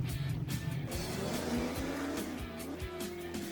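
Race car on the Pikes Peak hill climb, a loud engine rising and falling through repeated revs and gear changes, with tire noise, close and continuous without talking.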